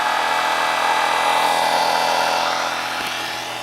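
A generator test rig motor runs under load with its speed being raised, producing a loud, steady, close whine with a dense mechanical drone throughout.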